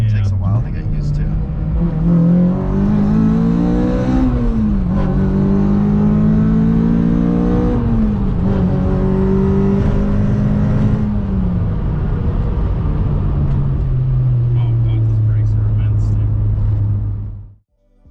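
Car with a light flywheel revving as it shifts through gears on a mountain road, a loud near engine climbing in pitch, dropping at each shift and rising again before fading out, with people talking in the cabin.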